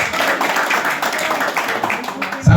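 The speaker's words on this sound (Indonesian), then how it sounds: "Berikan tepukan buat kalian." An audience at a business plan presentation breaks into a short round of applause, a loose patter of clapping hands that fills the room briefly and ends with a louder thump.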